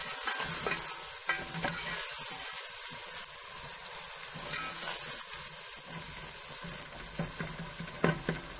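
A metal spoon scrapes and mashes tomatoes in a cooking pot with spices for a turnip and meat curry, a continuous close scraping and soft sizzle with occasional clinks.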